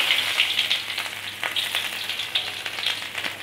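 Ginger sizzles in hot oil in a pan, a steady bright crackling hiss with small popping bursts, close and continuous with no talking.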